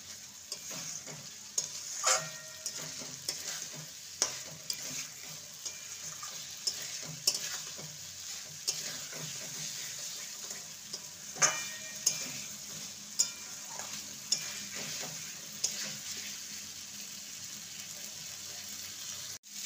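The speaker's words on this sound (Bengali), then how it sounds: "এবারে দিয়ে দেবো ভেজে রাখা আলু আর কাঁচকলা। ভালো মতন মশলার সাথে সবজিকে কষিয়ে নেব।" Potatoes and raw banana, fried beforehand, are stirred and fried in masala in a pan with a constant low sizzle, while a spatula scrapes at regular intervals, fairly close and moderately quiet.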